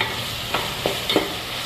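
Onions and tomatoes sauté with rock salt in a pan, a steady close sizzle broken by three quick stirring scrapes of a utensil, with no talking.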